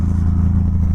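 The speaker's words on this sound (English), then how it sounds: "rev this thing out. It loves to rev." A Honda VTX1800 cruiser motorcycle's big engine runs loud and close with a steady low throbbing pulse, no voices present.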